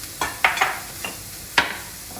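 Grated carrot and vegetables tossed and stirred in a pan for a homestyle Indian veg dish, with a few brisk scraping clatters and soft sizzle in short separate bursts.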